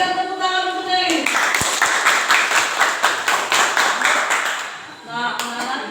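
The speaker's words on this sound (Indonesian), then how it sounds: "Berikan tepuk tangan untuk Nelis" A classroom of students claps for a classmate, a burst of rapid, fairly loud applause lasting several seconds. A voice is heard briefly before and after the clapping.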